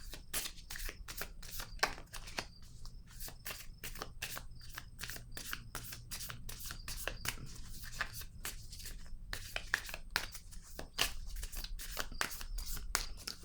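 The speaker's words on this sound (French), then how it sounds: "Je vais piger une carte noire." A black card drawn from a deck in a card reading: a rapid, steady run of crisp, close card snaps and riffles lasting many seconds, quiet and without speech.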